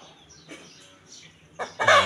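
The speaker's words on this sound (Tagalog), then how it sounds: "Tapos may mga manok." A few short clucks from chickens, with a louder burst of clucking near the end.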